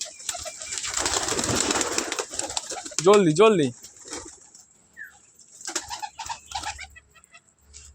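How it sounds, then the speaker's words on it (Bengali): Pigeons leaving their coop: a burst of wing flutter and shuffling, then cooing and soft bird calls, with a person's quick urging voice and some knocking nearby. "সব পায়রাগুলো বেরিয়ে গেছে মোটামুটি"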